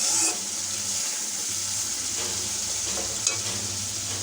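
Gulsha fish being sautéed with leaves in a pan, a steady close sizzle and hiss with faint stirring scrapes and a small clink, no talk.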